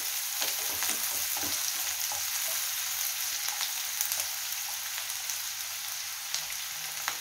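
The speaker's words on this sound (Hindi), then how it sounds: "सबसे पहले इसमें हम प्याज डाल देते हैं। प्याज को हल्का भून लेते हैं" Sliced onions fry lightly in a pan, giving a steady, close hiss of sizzling oil with a few faint stirring scrapes and no speech.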